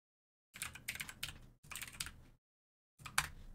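Fingers type a folder name on a computer keyboard, quiet and close, as three short bursts of rapid clicking separated by pauses.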